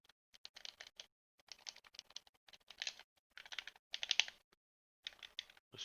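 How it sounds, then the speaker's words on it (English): The buttons and triggers of a game controller clack in short, bursty runs of sharp, quiet clicks, with brief pauses between the groups. "those are super clacky. All the buttons are really clacky."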